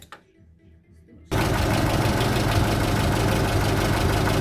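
A car engine with a second-generation LPG gas system catches after a few quiet seconds, then runs at a steady, loud, close idle with a mid-pitched knocking chatter.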